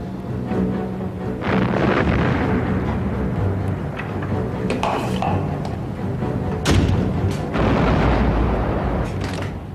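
Six-inch naval guns of a warship fire repeatedly, with heavy booms and thuds landing at uneven intervals over a continuous low roar of battle.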